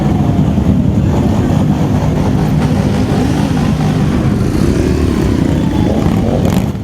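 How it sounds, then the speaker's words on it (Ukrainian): A dense, continuous roar of hundreds of motorcycle engines starting a bikers' street parade rumbles loudly and without a break, with the occasional engine revving above the crowd of motors. "Потужний звук сотень мотоциклетних моторів звістив про старт традиційного параду байкерів вулицями міста."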